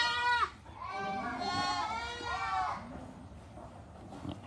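Young Boer goat kids bleat while playing on a farm, giving several clear, wavering calls close by, spaced a second or so apart, over quiet background noise.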